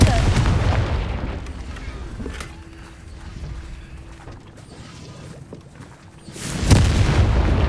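Fiery Confringo spell blast in the game Hogwarts Legacy, a booming burst near the start and another loud whoosh-boom near the end, with lower rumbling ambience and mechanical game sounds between.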